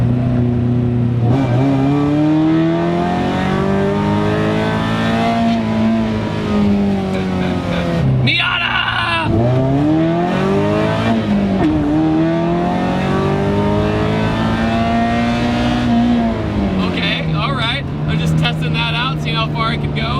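A Mazda Miata with a swapped-in Chevy Equinox engine accelerates hard, its engine note rising and falling through several gear pulls, close and loud, with people talking over it.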